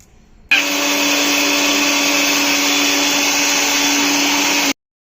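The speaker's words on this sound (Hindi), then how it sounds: "वो इलायची को मैंने खोल के और फिर मिक्सी में करके" A kitchen mixer grinder pulverises shelled cardamom pods into powder, starting abruptly with a loud, steady high-pitched whine that holds for about four seconds before cutting off sharply into silence.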